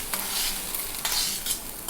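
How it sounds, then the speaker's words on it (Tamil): Capsicum sautéing in a kadai with salt, giving a steady close sizzle broken by several scraping stirs of a spoon. "குடமிளகா வதங்கி எடுத்துடலாம்."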